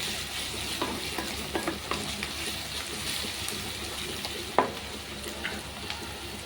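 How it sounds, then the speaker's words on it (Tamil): Onions slowly sauté in a pan for a peanut and yam kurma, giving a soft, close, continuous sizzle with intermittent light scrapes and taps of a spatula stirring. "இந்த அளவுக்கு வெங்காயம் நல்லா நிதானமாக வதங்கிடுச்சு"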